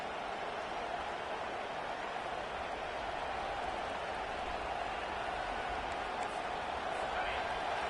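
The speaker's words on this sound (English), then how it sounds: "Listen to this crowd just shaking the girders of this place, trying to help their defense" Roaring stadium crowd in the College Football 25 video game, a dense, unbroken wall of cheering noise that stays steady and loud, swelling slightly toward the end.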